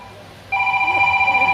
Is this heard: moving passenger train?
no